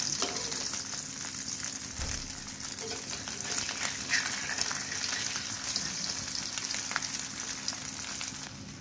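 An egg fries in a pan, cooked with a little water added so it puffs up, giving a continuous close crackling sizzle with faint scattered pops and no voices.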